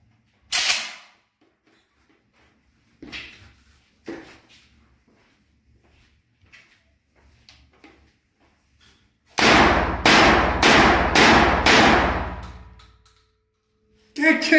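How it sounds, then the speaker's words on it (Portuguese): Loud shots from a TR 12 semi-automatic shotgun with an amplifier-like muzzle device, fired outdoors: a few single blasts at first, then a rapid burst of five close, sharp reports in quick succession, with quieter clicks and handling noise between them. "Vamos fazer os nossos 5 primeiros disparos então com ela."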